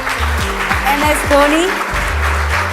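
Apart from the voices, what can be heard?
audience applause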